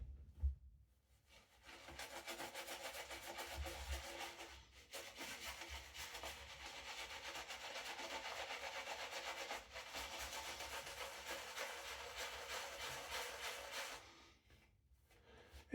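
A Frank Shaving brush with a first-generation knot whips up lather, making a soft, continuous scratchy rubbing close by for about twelve seconds before stopping.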